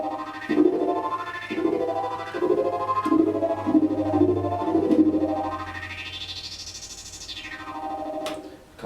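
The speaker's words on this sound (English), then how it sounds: "I picked a sound here on my Korg which is kind of cool, that sort of fits in with the zombie theme" A Korg keyboard plays an eerie, zombie-themed synth patch: pulsing, warbling chords over a low drone, then a rising-and-falling swooping tone, effected with echo and chorus.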